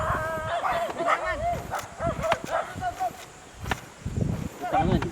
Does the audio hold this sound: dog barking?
yes